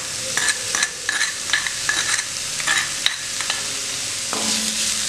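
Chopped onions with ginger garlic paste sautéing in a pan for a mushroom pepper fry, loud close sizzling under repeated rhythmic scrapes and clanks of a spoon stirring against the metal, no voices.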